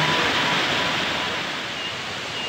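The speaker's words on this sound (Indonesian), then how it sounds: "Kita sedang berada di lokasi wisata air terjun Semawar yang berada di Kecamatan Benawi, Kabupaten Karanganyar." Sewawar waterfall at a tourist spot in Jenawi, Karanganyar, Central Java, a continuous loud roar of falling water heard nearby without a break.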